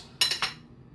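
Metal utensils clinking while carrots are finely crushed for dog food, two quick bright clinks close together, close and alone.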